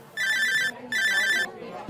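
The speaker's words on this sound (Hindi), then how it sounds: "मगर तभी रोहित के फोन पर आया एक कॉल।" A phone's ringtone sounds for an incoming call, playing two bright, loud bursts of a tonal ringing pattern with a short pause between them, close and clear.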